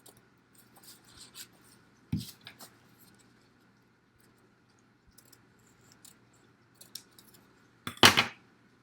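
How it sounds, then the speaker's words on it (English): Scissors snip through parachute material in a quiet room: a few faint, sparse clicks and cuts, with a sharper, louder snip near the end. "I'm just going to take my scissors and cut that right to where the 2"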